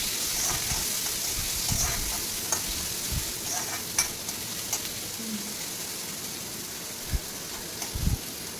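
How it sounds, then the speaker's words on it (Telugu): Chopped onions fry steadily in a pan for bottle gourd kofta, a constant soft sizzle broken by occasional sharp spoon clicks and scrapes against the pan. "ఆనియన్స్ బాగా ఫ్రై చేసుకోవాలి"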